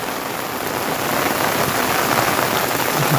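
Heavy monsoon rain falls without pause, a thick continuous patter of drops on nearby surfaces that swells slightly louder partway through, with no one speaking.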